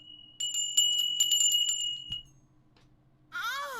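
Tinkly bells ring in a quick cluster of bright, clear metallic chimes that fade out, followed by a short warbling electronic trill near the end.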